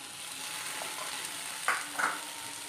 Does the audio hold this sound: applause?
no